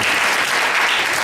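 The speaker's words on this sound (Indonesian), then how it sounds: "Kasih tepuk tangan dulu dong" A church congregation applauds during a sermon, dense steady clapping filling the short moment at even loudness with no voices over it.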